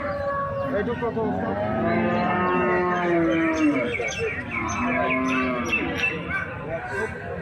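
Pregnant cows mooing repeatedly at a busy Bangladeshi cattle market, several loud drawn-out calls overlapping from close and mid distance over constant crowd chatter and background voices.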